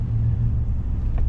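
A car accelerates over slush and ice on a snowy road, heard from inside as a steady, loud low rumble of engine and tyres with no pauses and no talk.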